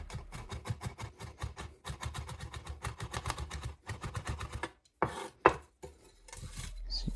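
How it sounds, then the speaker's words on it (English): A knife chops garlic and a pinch of salt on a chopping board in quick, close, rhythmic taps. After a brief pause, a few scraping strokes follow. "I like to run the knife through it again just to sort of mix it all up together"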